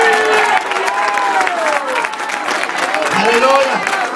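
Church congregation applauding at a Spanish-language worship service, a dense steady clapping wash lasting throughout, with a preacher's voice speaking over it.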